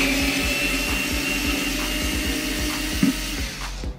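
A Xiaomi Mijia MJDDLSD001QW home electric screwdriver drives a medium-sized bolt with a continuous close motor whine and a rapid rhythmic ratcheting pulse underneath, steady throughout with a small knock near the end.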